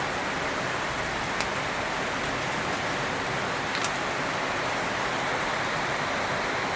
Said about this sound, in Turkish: Çok güzel yağmur var arkadaşlar. Çok güzel yağıyor yağmur.